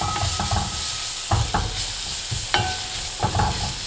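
Chili powder and garlic stir-frying in hot oil for a pollack stew, a steady close sizzle broken by several sharp scrapes and clatters of a spatula stirring the pan, with no voices.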